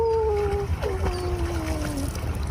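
A dog howls after being rescued from icy water during a Russian winter, with long, wavering, drawn-out howls that rise and fall over a steady low rumble of wind or water.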